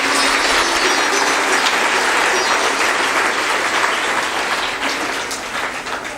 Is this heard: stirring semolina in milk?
no